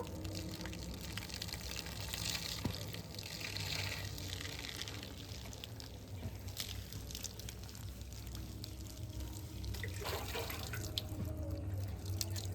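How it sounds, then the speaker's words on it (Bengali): Water runs steadily over hair during a rinse outdoors, a continuous broadband splashing and trickling with scattered drips, fairly close and uninterrupted, with no voices. "এবারে জল দিয়ে ভালো করে ধুয়ে নেব"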